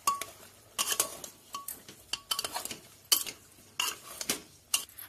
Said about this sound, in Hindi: हम हल्दी और नमक को मिक्स कर लेंगे अच्छी तरीके से।